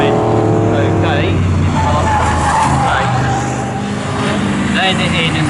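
A Morgan race car sweeps past at the Snetterton circuit during a Morgan Challenge race, its engine note rising and falling as it goes by, heard under a commentator's voice.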